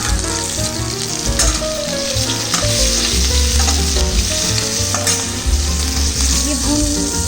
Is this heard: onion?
yes